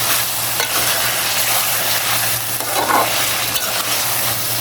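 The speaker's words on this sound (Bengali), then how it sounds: "এখানে আদা রসুনটা এটার সাথে ভালোভাবে একটু আমি ভেজে নেব" Ginger and garlic fry in a pan for a Bengali chicken stew, giving a steady close sizzle. Stirring scrapes run through it, with a brief louder scrape near the middle.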